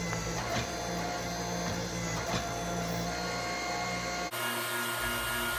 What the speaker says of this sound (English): So now we're going back in the forge and then back in the press again